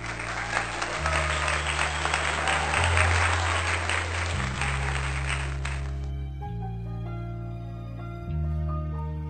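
A burst of crowd applause rings out for about six seconds over a sustained musical backing, then stops abruptly while the music carries on with light chiming notes.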